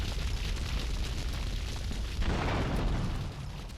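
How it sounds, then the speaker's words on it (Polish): A deep, rumbling explosion in the video game GTA III Definitive Edition booms and rolls on for a few seconds, broad and noisy, with no voices. "wybuchło coś panu pod domem, nie wiem co to było"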